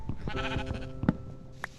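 A goat in the Minecraft video game bleats twice in short wavering cries, close and moderately loud, with faint game sounds around them.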